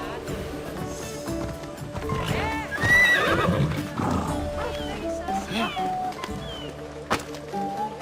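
A horse gallops in Assassin's Creed Odyssey, with loud, steady hoofbeats and a whinny or snort near the middle, while a voice talks over the running.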